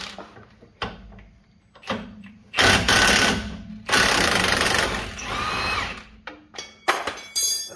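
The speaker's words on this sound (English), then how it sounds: "Hey, I'm using an impact socket," Under a Hummer H2 in a garage, an impact wrench fitted with an impact socket fires in repeated short and longer hammering bursts, loud and close, separated by brief pauses.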